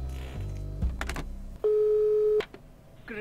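A telephone in the game Rogue State gives one steady electronic tone lasting nearly a second, after clicks and muffled shuffling. A short burst of rapid chirps follows it.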